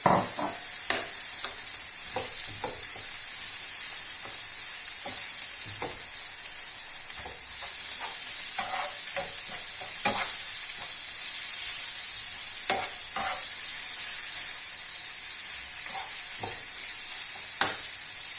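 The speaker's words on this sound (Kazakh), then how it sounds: "Кішкене қуырылсын." Minced meat sizzles steadily in a hot pan, with occasional scraping and stirring clicks from a utensil, no talking.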